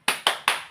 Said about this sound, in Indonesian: Yuk kita mulai tepuk semangat.